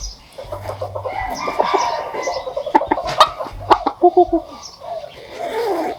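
Hens clucking in short, irregular bursts close by, with other birds chattering and some farmyard noise around them.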